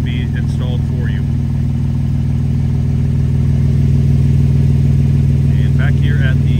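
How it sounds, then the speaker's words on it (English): Steady low rumble of a 2014 Porsche 911 Turbo S engine idling through a catless exhaust, loud and constant from start to finish, with someone talking briefly over it. "might notice that the exhaust is a little louder than stock, which it is. This is a catless exhaust system that was on the car"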